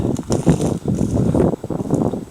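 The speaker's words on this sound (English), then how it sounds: "It's a bit windy." Gusty wind on a winter day in the woods, a steady low rumble buffeting the microphone for the whole stretch, with rustling and a few faint knocks mixed in.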